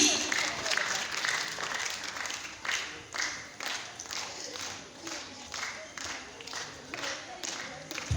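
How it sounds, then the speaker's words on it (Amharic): An audience claps for three children at a program. The applause is moderately loud, with a rhythmic, uneven patter and some crowd noise, and voices can be heard faintly at times. "አጨብጭቡላቸው እስኪ"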